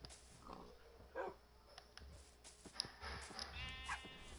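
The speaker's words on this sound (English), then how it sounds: "Oh, a sheep got out." A sheep in the Minecraft video game bleats in short bursts among other animal noises, including a dog-like bark, fairly faint and choppy against a quiet backdrop.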